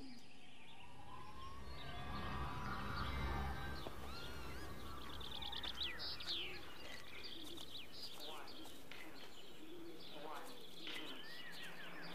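Birds in the English countryside of Everybody's Gone to the Rapture, a mix of caws and chirps scattered through a quiet, airy ambience, fairly faint, with a voice speaking over them.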